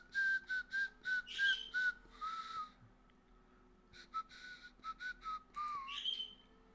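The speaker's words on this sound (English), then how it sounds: "I shouldn't be whistling." A person whistles a tune indoors, close and fairly soft, in a run of short rising and falling notes, then a pause, then another phrase.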